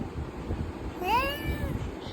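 A voices one drawn-out, rising-and-falling meow in imitation of a cat, heard once against a steady background hiss.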